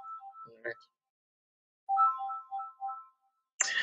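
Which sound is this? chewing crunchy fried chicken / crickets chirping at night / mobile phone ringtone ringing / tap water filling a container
mobile phone ringtone ringing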